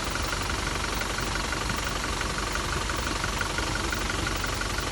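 A Toyota Innova Crysta engine idles steadily after a carbon-cleaning additive treatment, a dense, continuous mechanical hum with a faint knocking texture, close and unchanging with no voices.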